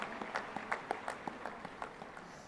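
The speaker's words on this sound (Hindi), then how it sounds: "एक बार हम उनको भी तालियों द्वारा उनको साधुवाद देते हैं।" Guests at a spiritual gathering with Guruvanand Maharaj are honoured with faint, distant applause: a sparse, quiet patter of individual claps spaced out over a couple of seconds.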